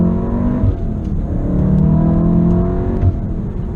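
APR Stage 2 tuned Volkswagen Golf R accelerating hard, heard from inside the cabin as a steady, loud engine drone rising in pitch, with a brief shift near the end.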